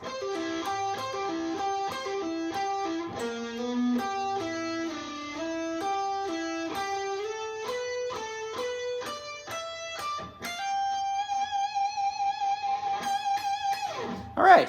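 A guitar plays a slow run of distinct picked notes from a solo, stepping up and down, ending in a long sustained bent note.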